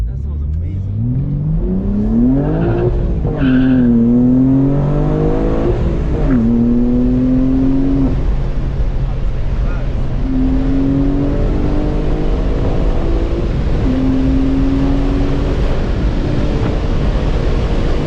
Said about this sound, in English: The noises with the downshifts and the intakes? That sounds amazing.